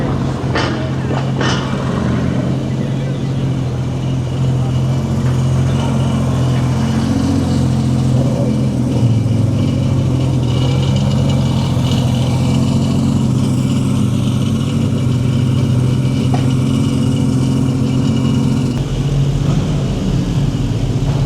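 Porsche GT3 RS sports cars at a supercar festival in Naples, Florida, their engines rumbling loud and steady, echoing off surrounding buildings for over twenty seconds, with a brief rev near the start and a drop in tone toward the end.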